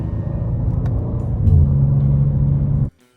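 A BMW M2 G87 engine rumbles steadily while driving, its loud low drone rising slightly in pitch before cutting off abruptly near the end.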